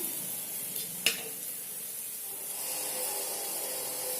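Oil goes onto thick breakfast batter cakes roasting on a hot pan, giving a soft, continuous sizzle with one brief sharp tap early on, close by and otherwise steady.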